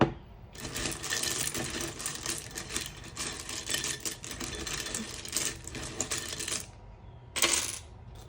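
Small astro dice, tiles and charms rattle and clatter continuously as they are handled and shuffled, a busy clicking patter that stops briefly near the end before one more short burst.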